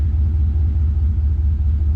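A rat rod fitted with a swapped-in LS engine idles steadily close by, a deep, even low rumble that holds without revving for the whole stretch.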